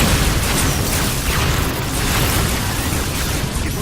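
Low-yield photon torpedo explosions in a Star Trek fan film: a continuous loud, dense roar of rumbling blasts and crackling debris with no clear breaks, close and overwhelming.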